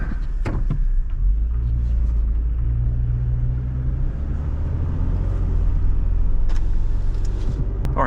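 A second-generation Toyota Tacoma pickup with the 4.0-liter 1GR V6 drives along, its engine humming as a steady low rumble inside the cab, loud and continuous, with faint clicks and no speech.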